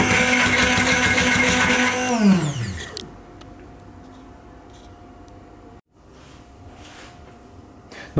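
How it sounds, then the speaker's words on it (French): A kitchen blender purees cooked lemon cream for a lemon meringue tart, with a loud motor whine that winds down after about two seconds and then gives way to quiet room noise and soft clinks. "maintenant, je vais mixer ma préparation"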